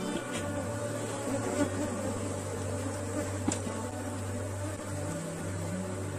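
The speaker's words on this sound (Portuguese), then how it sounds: "Olha só como ainda tem muitas abelhas." Honey bees buzz continuously around a beehive in an apiary, a dense, steady drone with a few individual bees passing close by, moderately quiet and with no talking.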